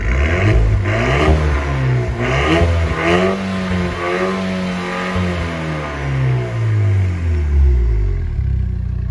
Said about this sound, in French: Pétarade au lâcher de gaz.